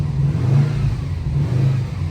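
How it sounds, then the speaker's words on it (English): Engine of an auction-bought car running steadily with a low, even rumble and slight surges in revs, close and unaccompanied by talk. "Motor sounds healthy in this thing."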